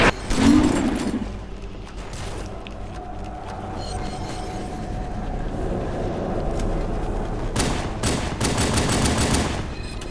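Rapid gunfire in the video game Halo 2 rattles in fast bursts over a constant low rumble, with a loud burst at the start and a busier volley near the end.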